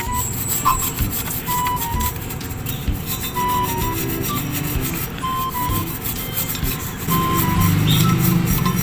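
Rust is scrubbed off metal with a brush in steady, continuous rasping strokes, close and fairly loud. The harsh grinding texture carries on without pause and gets a little heavier near the end.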